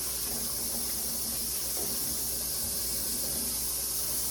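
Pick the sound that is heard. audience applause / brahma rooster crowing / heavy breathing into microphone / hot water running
hot water running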